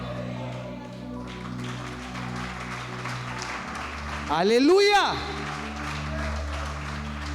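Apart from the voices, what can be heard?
applause in church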